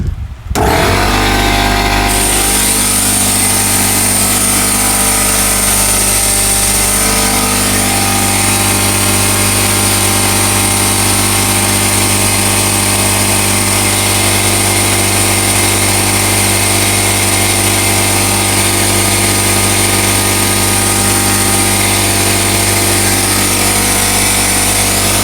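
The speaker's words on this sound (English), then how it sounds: "I'm going to turn on the fluid extractor one more time and see what comes out" The air pump of a fluid extractor sucks oil from a supercharged 3.0T Audi engine. It starts with a short burst, then settles into a loud, steady, close mechanical drone with a high whine that runs unbroken for the whole stretch.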